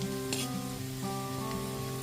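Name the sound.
chopped garlic frying in a pan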